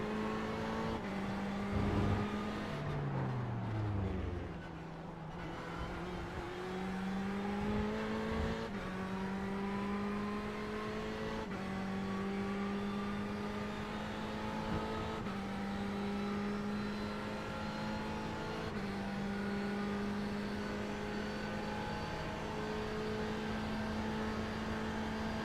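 Ferrari 488 GTE race cars lapping Interlagos in a racing video game, a steady high engine drone with pitch sweeps as gears shift and speed changes, loud and continuous throughout with no talking.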